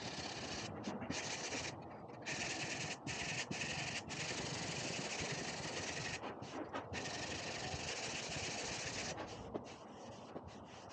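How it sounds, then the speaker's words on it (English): Steady, continuous sanding of body filler on a damaged VW Up wing during a repair, a loud dry rubbing that runs almost unbroken with brief pauses, close by and with no talking. "I'm just rubbing through the normal filler I've got underneath"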